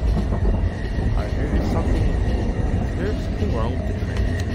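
A train rumbles along in The Final Station, a heavy, continuous low clatter of rolling wheels and carriages, with voices talking over it.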